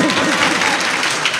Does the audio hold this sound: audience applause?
yes